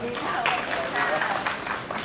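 Applause from an audience at a 2015 media association president election in Nakhon Si Thammarat, Thailand: steady, dense clapping mixed with crowd noise and some voices throughout.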